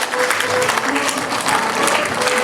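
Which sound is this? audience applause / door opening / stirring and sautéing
audience applause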